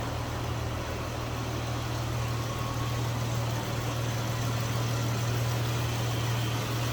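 A 2020 Chrysler 300S sedan engine idles smoothly and steadily, a constant low hum with no revving, close by and alone.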